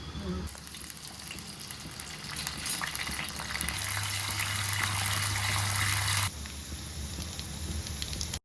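Cumin, mustard seeds and urad dal frying in hot oil in a kadai, a steady loud sizzle that swells midway with a low hum underneath, then cuts down abruptly near the end to a quieter hiss.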